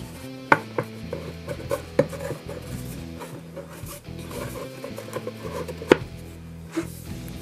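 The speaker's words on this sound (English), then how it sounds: "just going to use a chisel" A wood chisel trims the edge of a ukulele top so it fits the body mold, giving sharp irregular taps and scraping cuts, a few louder strikes standing out against quiet workshop background.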